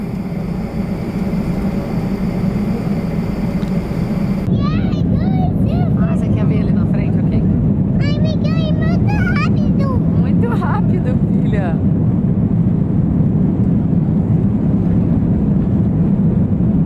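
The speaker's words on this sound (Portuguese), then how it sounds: "É na pista, o avião vai muito rápido" An airliner accelerating fast down the runway gives a loud, constant engine roar and rushing rumble from inside the cabin, with an adult and someone talking excitedly over it.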